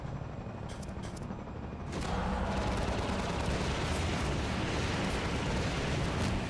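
A manned turret in Garry's Mod fires in a sustained, loud, dense stream of heavy gunfire that starts after a brief quieter lead-in and keeps going without a break.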